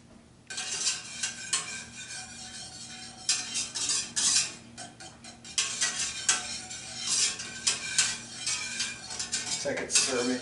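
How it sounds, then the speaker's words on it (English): Beer brewing mixture poured into a keg, with clattering metal and ceramic knocks, scraping and stirring sounds in fairly busy, close bursts throughout. "we add this into the keg"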